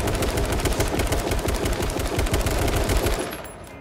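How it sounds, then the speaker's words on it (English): Sustained automatic gunfire in the battle royale game H1Z1, a rapid, loud rattling stream of shots that fires steadily for over three seconds before cutting off abruptly. "Somebody just shot from the forest."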